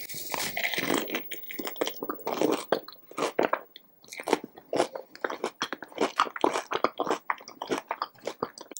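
Close, crisp crunching and chewing of jumbo shrimp at a seafood boil, with irregular bites and wet mastication sounds repeating steadily, no talking.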